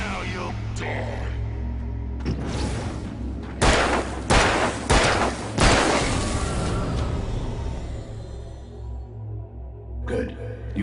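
In the video game Alan Wake, several loud gunshots bang close together in a short burst, each with a booming tail, over a low droning game soundtrack that fades afterward.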